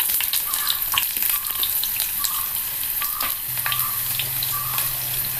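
Shallots sizzle and fry in hot oil with mustard seeds, a steady loud crackling hiss with small pops, no voices.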